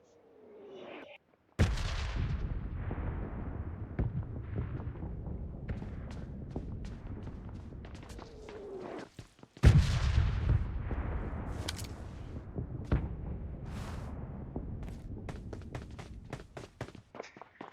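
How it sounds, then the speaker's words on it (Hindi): Dense bursts of gunfire from the PUBG battle royale game, with sharp loud cracks near 1.5 and 9.5 seconds over sustained clattering shots and movement noise, no talking. "तो यहाँ पर बहुत बुरी वाली फायरिंग हो रही थी।"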